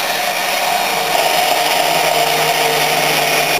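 A kitchen blender runs at full speed to grind plant material and break down the cells. It gives a loud, close, steady whirring roar with no pause for its whole length.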